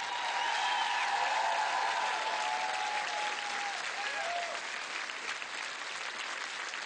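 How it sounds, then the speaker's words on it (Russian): TV comedy-show studio audience applauding, a dense, steady round of clapping heard at moderate level, with a voice talking briefly over it early on. "Громче аплодисменты!"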